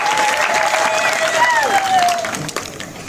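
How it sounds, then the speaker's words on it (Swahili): A crowd at an ODM party gathering in Kenya applauds for Raila Odinga with dense, steady clapping and cheering. Whistle-like tones rise and fall through it, and the applause thins toward the end. "Hebu pigia Raila Amolo Odinga makofi."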